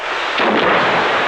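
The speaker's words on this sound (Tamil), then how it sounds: "இப்ப வெடி வெடிச்சது அந்த சத்தம் கேட்கலையான்னு கேட்டேன்" A single loud, booming firecracker blast bursts close by, with a rough, noisy decay trailing off over about a second.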